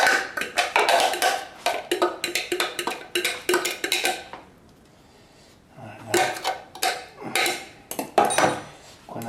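Two eggs beaten together with a chopped onion and parsley mixture in a bowl, utensil repeatedly clinking and scraping against the dish in quick bursts, with a brief quiet pause midway.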